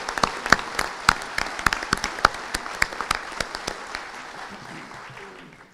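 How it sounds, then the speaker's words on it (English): A small crowd at an electric cooperative's annual meeting claps for employees, the sharp, scattered claps near and distinct at first, then thinning out and fading away. "let's give our employees a round of applause for their dedication and service"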